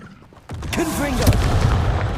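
Blast of a Confringo fire spell in the Hogwarts Legacy video game during a fight with goblins: a sudden booming burst followed by a crackling, rumbling roar that lingers, with voice sounds woven through it.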